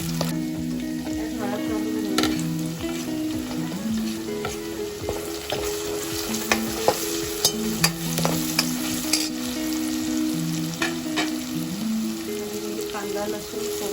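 Chopped tomato frying in a pan for misal, a close, steady sizzle with repeated clinks and scrapes of a spoon stirring and some faint, intermittent background tones, with no talking.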